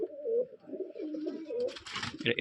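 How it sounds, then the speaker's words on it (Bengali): Pigeons coo in low, throaty, rolling calls, close by, with a brief rustle and scuffle toward the end. "নিউ এডাল কবুতর"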